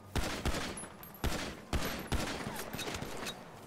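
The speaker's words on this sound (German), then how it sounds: "Oh mein Gott, ich sehe die ganze Zeit die Schüsse." Gunfire in a GTA deathmatch game, a series of sharp single shots spaced unevenly about half a second apart, with rapid bursts in between, no talking.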